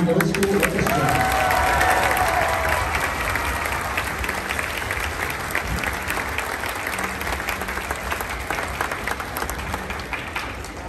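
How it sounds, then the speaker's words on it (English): Sustained audience applause for a combined middle school orchestra at an orchestra festival, dense steady clapping with some cheering that fades slightly over about eleven seconds. "One more round of applause for the combined middle school orchestra."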